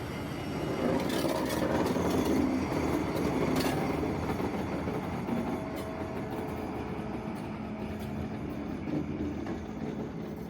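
Locomotive CC 65512 hauling a train along the rail, a steady rolling rumble with faint wheel clatter and a brief squeal, fairly close and louder at first, then easing slightly, with no talk.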